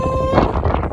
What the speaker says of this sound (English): it was so windy at the summit